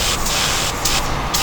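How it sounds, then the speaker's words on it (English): Aerosol lubricant hissing onto exhaust bolts on a 240sx, a loud close continuous spray with slight pulsing bursts and no voices. "Spray some lubricant on there"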